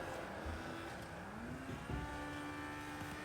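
Race car engines roar in Asphalt Legends Unite on the Shanghai track, with a Razer Tartarus against an Ultima RS, holding a loud whining drone whose pitch glides upward and jumps at gear shifts.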